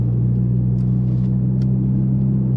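Mitsubishi Lancer Evolution X with SST dual-clutch transmission downshifting into fourth gear, heard as a steady loud low engine drone and cabin rumble from inside the car, with no clear rev spike.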